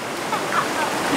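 Steady broadband rush of fast-moving water in the Bald River, close and continuous, with no breaks or talking.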